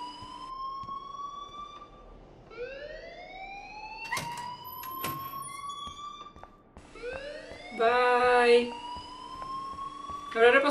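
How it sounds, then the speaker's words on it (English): An alarm in Life is Strange wails in long rising siren sweeps that repeat, loud and near, with a few sharp bursts and some voices breaking in between the tones. "please turn off that alarm since that's your job"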